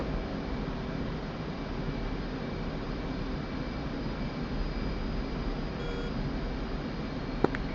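In a flight combat video game, a continuous aircraft engine roar fills the scene with a steady tonal hum, and a couple of short lock-on beeps chirp near the end.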